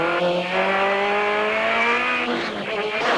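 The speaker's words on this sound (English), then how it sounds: "from the inside of John Welsh's car, a lovely close-up view of the back end of Will Gollop's Metro, through the chicane and up the hill" Rallycross cars race at Brands Hatch, including a Metro heard from close behind through the chicane and up the hill, engines revving high and shifting pitch continuously, with tyre noise and a loud, sustained roar throughout.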